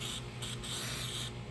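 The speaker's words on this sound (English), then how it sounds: "spray a little of this on here" Lubricant sprayed from an aerosol can onto a control arm bushing of a Dodge Ram 1500, a steady close hiss in short bursts with brief pauses between them.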